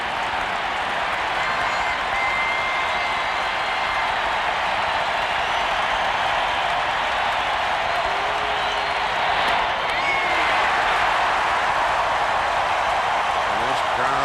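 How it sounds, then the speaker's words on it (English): A dense baseball crowd at a 1991 World Series Game 7 between the Braves and Twins roars, hoots and hollers continuously, a loud sustained wash of cheering with occasional whoops swelling slightly toward the end. "And this crowd hooting and hollering on each pitch."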